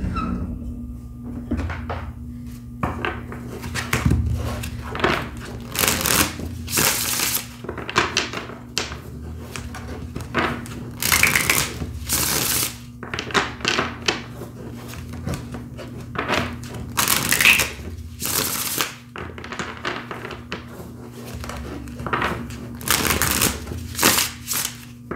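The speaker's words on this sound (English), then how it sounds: "So we will be shuffling on camera today." Crisp, irregular bursts of tarot card riffling and tapping, close up, repeating across the stretch with short pauses between shuffles over a steady low hum.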